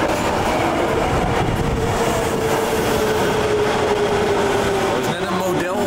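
A metro train rides through Japan with a steady, close rumble and rattling clatter throughout, a faint whining tone gliding underneath and a few muffled voices mixed in.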